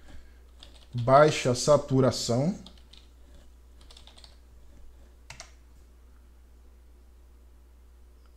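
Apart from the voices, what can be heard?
typing on a computer keyboard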